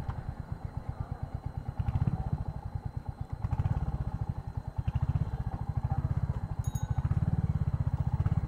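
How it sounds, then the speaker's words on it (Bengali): A Royal Enfield Hunter 350 single-cylinder motorcycle thumps steadily as it slows, its low rhythmic exhaust pulses close and continuous with a faint airy whoosh over the beat. "বাইকটা ডিসেলারেশনের সময় আসলে একটা সাউন্ড পাই আমি, এই সাউন্ডটা শি করে একটা সাউন্ড দেয়"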